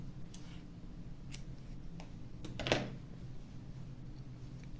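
Scissors snip through crochet yarn in one quick, close cut, surrounded by a few faint clicks in a quiet room.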